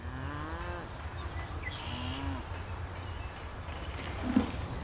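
A cow lows in a long moo, then gives a second, shorter one, set against a quiet outdoor background.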